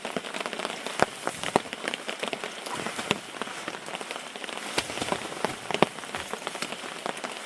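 Heavy rain patters on a hammock camp in a dense, continuous spray of close drops, with sharper taps standing out here and there and no voices.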